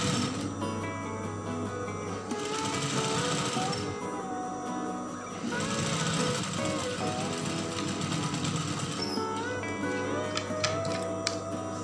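A sewing machine runs in steady rapid bursts while stitching the side and shoulder seams of a tunic, its mechanical chatter close and loud, stopping and restarting between seams.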